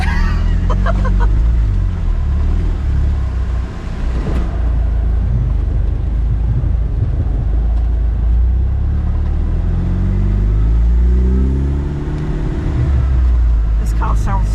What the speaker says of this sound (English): This car sounds so cool.